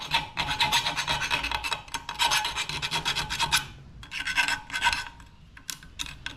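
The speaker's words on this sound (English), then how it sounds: "Deburr these holes a little bit." Rhythmic rasping strokes of a hand deburring tool scraping drilled holes in metal, close and fairly loud, coming in bursts separated by short pauses.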